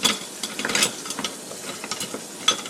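Butter sizzling in a pan on the stove, a close steady crackling hiss with scattered sharp clicks and light utensil taps, no voices.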